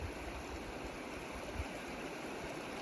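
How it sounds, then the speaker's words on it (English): Meltwater creek flowing out of Scott Glacier along the Athabasca Pass trail, a steady broadband rush of water heard close by, continuous and unbroken with no voices. "decided to walk down the creek that comes out of the glacier"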